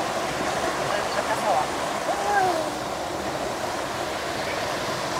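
A small mountain stream, a tributary of the Soła river, rushes steadily nearby in a broad constant wash. Faint bird or voice-like chirps rise briefly over it.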